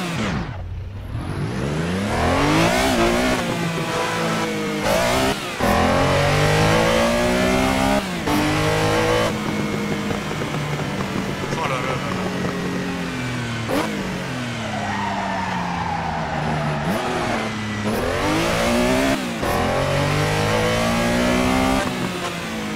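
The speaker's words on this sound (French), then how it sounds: "regarde-moi ça, le son du moteur" A Porsche race car engine in the racing game Assetto Corsa revs loudly and continuously, climbing through the gears with sharp shift breaks and repeated rising and falling sweeps, heard alone without talk.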